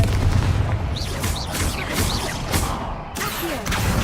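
Fire spell explosions from Hogwarts Legacy burst repeatedly over a dense, rumbling game soundscape, with several sharp booms and crackling blasts following one another at close range.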